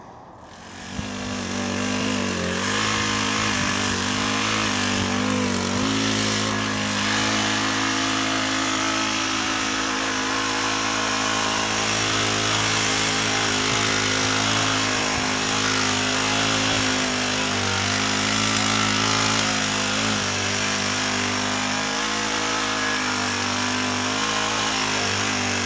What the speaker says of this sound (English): once the tiller has been over the top of that, turned it in, you won't notice